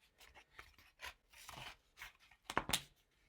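Scissors snip through paper for a flower mobile craft in a series of irregular cuts and rustles, quiet at first and ending with a couple of sharper, louder snips.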